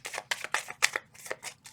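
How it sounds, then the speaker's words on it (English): Tarot cards shuffled by hand at close range, a quick series of about eight crisp papery riffles and slaps in an uneven rhythm, alone with no talking. "2 more shuffles."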